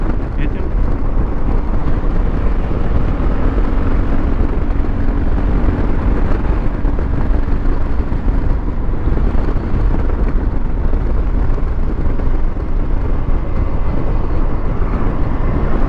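Yamaha Tricity 300 three-wheel scooter ridden at lively pace through curves, steady engine drone mixed with heavy wind buffeting on the microphone, a rider's voice occasionally speaking over the continuous roar.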